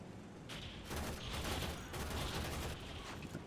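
Rifle fire in the video game Warframe, a sustained burst of shots that starts about half a second in and rolls on steadily and fairly loud to the end, with no talk over it.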